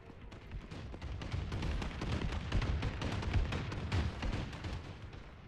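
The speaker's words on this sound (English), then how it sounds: "Friendly bombing run incoming." A dense, continuous barrage of booming explosions rolls on for several seconds as a friendly bombing run lands in a Call of Duty: Advanced Warfare Domination match, loud and rumbling throughout.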